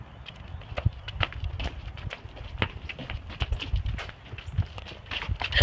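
Horse hooves clip-clop in a steady walking rhythm, fairly close, with a soft background hum.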